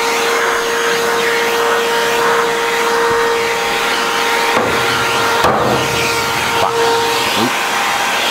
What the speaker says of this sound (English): let's vacuum this puppy out